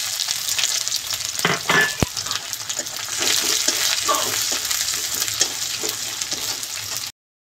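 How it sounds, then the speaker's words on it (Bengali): Chopped onion with dry red chilli pieces and nigella seeds hits hot oil in a pan for a fish curry, giving a steady close hiss and crackle with a few stirring knocks. "2 টুকরো করা শুকনো লঙ্কা আর কালো জিরে ফোড়নে দেব। ওতে দিয়ে দেব পেঁয়াজ কুচি।"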